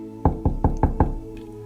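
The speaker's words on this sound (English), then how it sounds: "knocks on the women's room door" Five sharp knocks on a hospital women's room door in an audio drama, evenly spaced and close, followed by quiet room tone.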